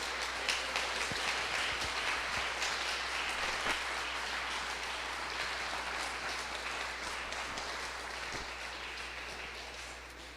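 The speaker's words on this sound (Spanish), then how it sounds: "Dale un aplauso a nuestro Rey" A church congregation breaks into sustained applause during a worship service, a dense, even roar of many hands clapping that carries on for about ten seconds under a low steady hum.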